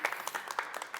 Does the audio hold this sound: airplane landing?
no